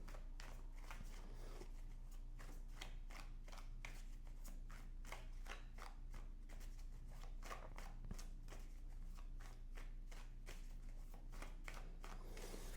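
Tarot cards being drawn, shuffled and laid out for a reading, a steady run of soft papery flicks and slaps close by against a low constant hum, with no talking.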